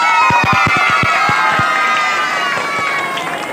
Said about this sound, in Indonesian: Mari tepuk tangannya dong.